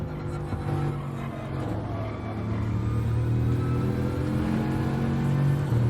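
A Bugatti Veyron engine in a racing video game at Yas Marina, with a steady, loud drone that builds slightly as it accelerates, and no talk.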